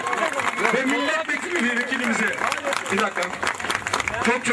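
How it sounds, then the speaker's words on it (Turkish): A crowd at a village picnic gathering applauds the mayor, with steady clapping of moderate loudness under an announcer's voice speaking over it. "Büyük bir alkışla yolluyoruz belediye başkanımıza."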